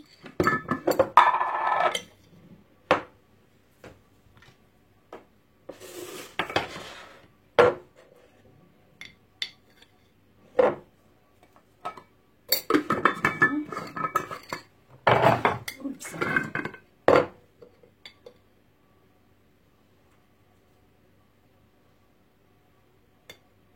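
A spoon scrapes and knocks against a pan while a warm fennel salad is stirred. The clatter comes in scattered sharp bursts separated by quiet gaps, close and fairly loud, then fades to near silence at the end.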